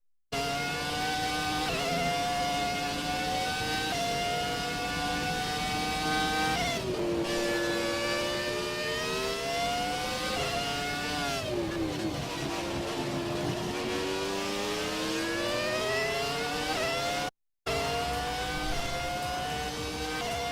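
Ferrari Formula 1 racing car engine from the F1 2017 game, racing at Italy, screaming loudly and steadily with rising and falling revs through gear changes for about twenty seconds, briefly cut near the end.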